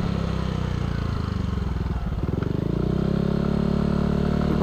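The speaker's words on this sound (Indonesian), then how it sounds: "Ya intinya suara idle-nya menurut gue lebih berisik ya." Yamaha Aerox scooter fitted with a K'RACE racing exhaust, engine running loud and steady with a deep bassy drone, the pitch rising slightly as it revs up near the end.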